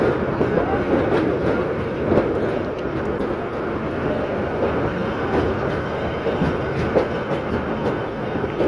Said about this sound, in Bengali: রিলিফ ট্রেন কর্ণফুলী কমিউটার ট্রেনটি অবশ্যই আখাউড়া রেল স্টেশনে এসে প্রবেশ করেছে